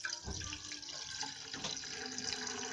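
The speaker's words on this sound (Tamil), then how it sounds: "இப்போ நம்ம இதில் ஒரு கப் பாலை ஊற்றிடுங்க" A cup of already-boiled milk is poured into a payasam pot on the stove, making a soft, continuous splashing trickle that runs steadily throughout.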